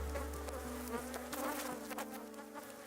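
A steady insect buzz of honey bees hums continuously near the microphone, with a low drone underneath and no voices.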